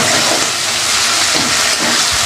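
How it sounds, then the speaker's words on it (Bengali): Spices and tomatoes fry in a pan, giving a loud, dense, continuous sizzling hiss close up with no break. "তো মশলাও কষানো হয়ে গেছে টমেটো নরম হয়ে গেছে"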